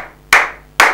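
Worshippers at a church exhortation clap together in two crisp, loud collective claps roughly half a second apart, each fading quickly, with nothing else heard between them.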